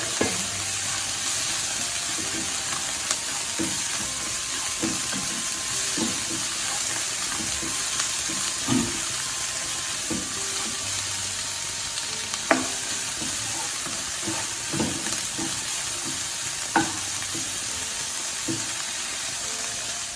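Soya chunks fry with masala in a pan, a constant close sizzle under repeated scraping strokes of a spoon stirring, with occasional louder knocks against the pan and no talking.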